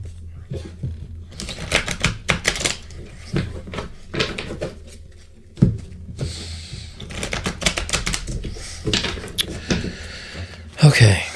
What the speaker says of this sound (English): Let me shuffle these cards here.